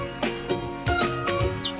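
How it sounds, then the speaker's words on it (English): Blackbird song: a run of bright, fluting whistled phrases with short chirps, repeated several times over a couple of seconds, clear and fairly close with no talking. "Blackbird,"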